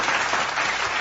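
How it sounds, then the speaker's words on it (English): A brief, dense burst of applause from a small audience, steady and even throughout with no talking. "So we're just gonna give another round of applause for making it a whole season."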